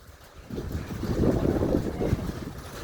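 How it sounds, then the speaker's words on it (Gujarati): A strong wind rises ahead of rain near a dam under dark clouds, starting quiet and then swelling into a loud, rushing buffet against the microphone. "અને વાયરો ખતરનાક આપવા માંડ્યો."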